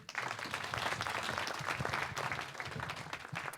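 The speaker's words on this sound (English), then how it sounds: "Applause." Sustained applause from an audience after a venture capital panel, a dense wash of many hands clapping at steady loudness throughout.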